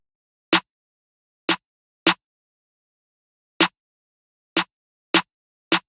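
Layered snare hits in a sparse trap-style pattern, two snare sounds stacked per hit: seven sharp, bright cracks with irregular spacing and clean silence between them, no voice.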